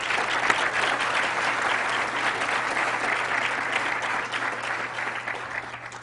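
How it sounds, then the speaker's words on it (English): A room full of people at a conference session on trends and policies breaks into steady applause. Dense, even clapping goes on throughout and fades a little near the end. "So I just want to give a round of applause for Susan first."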